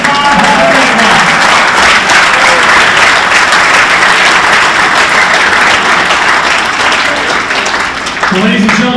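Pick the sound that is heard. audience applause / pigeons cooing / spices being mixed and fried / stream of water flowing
audience applause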